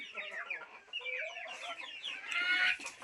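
Desi chickens cluck and chatter continuously at a live poultry sale, a dense, busy mix of many birds close by with brief louder squawks toward the end.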